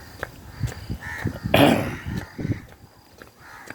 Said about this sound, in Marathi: कावळे बरेच इकडे या भागामध्ये